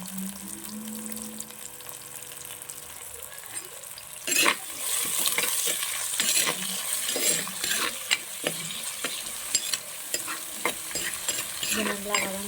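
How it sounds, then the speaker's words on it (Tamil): Ingredients for a karameen fish and coconut milk curry sauté in a pan, a steady close sizzle with repeated stirring scrapes and clinks that grow louder after the first few seconds, with no talking. "இது நல்லா வதங்கணும்."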